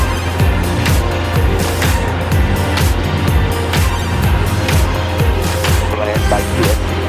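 A Cessna 172's rebuilt aircraft engine runs with a steady, loud, unbroken low drone that fills the whole stretch, while voices talk over it intermittently.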